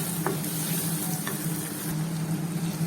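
Chopped tomatoes softening in hot oil in a pan while cooking a crab dish, a steady low sizzle with a few soft scrapes of a spoon, no talk.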